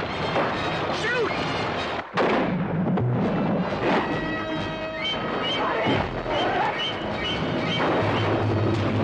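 Gunshots ring out at a shark in the 1975 Jaws trailer, several booming blasts mixed with dramatic music and shouting voices.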